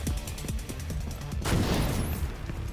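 Grenade blast amid gunfire in the video game Division 2, a rapid crackle of shots followed by a broad burst of noise that swells midway and decays, with no talking.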